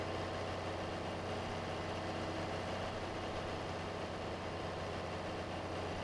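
An old John Deere 4020 tractor engine idles steadily in Farming Simulator 22, a constant low rumble with no breaks and no voices.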